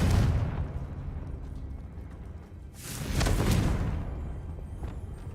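A Confringo spell explosion in Hogwarts Legacy, a loud booming blast at the start that fades, then a second heavy burst near the middle rumbling out over a few seconds, with no talk.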